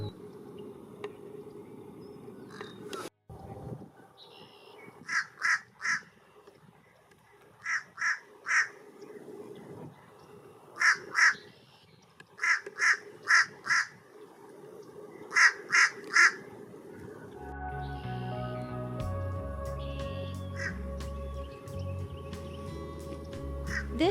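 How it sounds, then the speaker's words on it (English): Fish crows call in a marsh with short nasal caws in pairs and small clusters, fairly close and repeated over a steady background hum. Louder layered sound takes over near the end. "This is some of the various sounds the fish crow makes."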